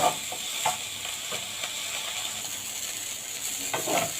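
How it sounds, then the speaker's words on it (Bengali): Eggplant slices fry in a pan with a steady hiss of sizzling oil and occasional scraping stirs, close and continuous with no talk. "বেগুন ভাজা হয়ে গেছে"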